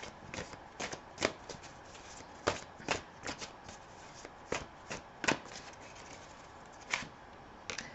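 Tarot cards being shuffled by hand, a quiet series of crisp riffling slaps and soft shuffling in irregular bursts, close up with no talking.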